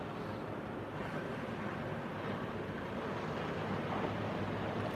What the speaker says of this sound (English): I hear the waves crashing.